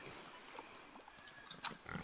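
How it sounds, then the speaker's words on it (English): Pigs grunt faintly in the Planet Zoo video game, with a few short, soft snorts and oinks scattered over a quiet farm-exhibit background. "there's the pigs"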